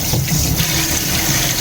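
Tap water runs steadily into a sink while a deep cooking pot is washed, a continuous close splashing hiss throughout with no talk.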